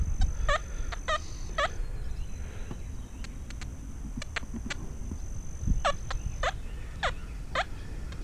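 An XP Deus metal detector with a 9-inch LF coil sounds repeated short, bright tones as it sweeps over a dime, the beeps coming in irregular clusters against faint outdoor hiss.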